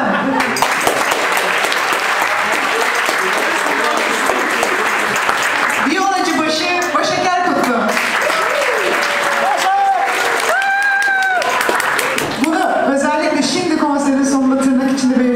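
An audience claps for a violinist in a dense, sustained burst that fills the opening seconds, then gives way to a voice and music with scattered clapping.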